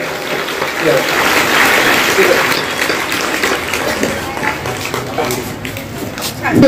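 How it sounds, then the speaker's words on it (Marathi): A school audience at a Chhatrapati Shivaji Maharaj Jayanti celebration at Gyanesh Vidya Mandir, CIDCO N-2, breaks into loud, sustained applause, a dense hiss of many hands with voices mixed in. "एकदा जोरदार टाळ्या होऊ द्या"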